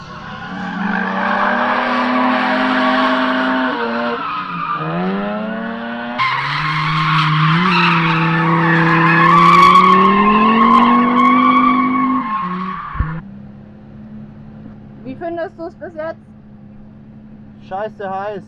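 A Tesla Model 3 Performance drifts on a track, its tires squealing in long, loud, wavering howls that shift pitch for about thirteen seconds before cutting off, followed by a few short chirps.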